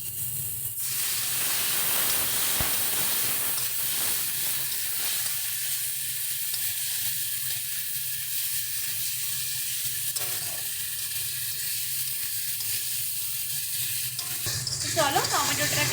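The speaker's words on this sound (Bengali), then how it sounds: "টমেটো দিয়ে আরেকটু জল দিয়ে দিচ্ছি।" Tomato and water hit a hot pan of Bengali katla fish curry, setting off a loud, steady sizzle and hiss that flares briefly near the start and again at the end, with occasional stirring.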